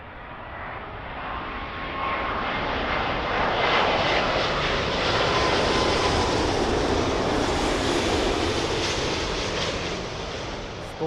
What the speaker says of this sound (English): next arrival, British Airways 777-200 ER in from Nashville